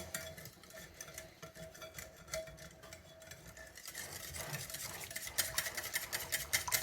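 Batter is whisked in a bowl, a quick continuous scratchy clicking of the whisk against the sides that grows busier and louder toward the end, with no talking.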